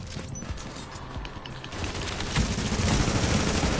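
Rapid turret gunfire in a video game firefight, dense and continuous, building louder through the second half with no talk over it.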